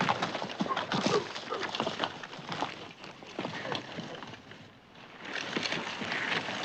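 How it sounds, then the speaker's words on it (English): Several horses shift and step on open ground in a 1966 Western, hooves clopping irregularly at close range amid rustling and tack noise, with a faint voice in the background. "Tie the horses off."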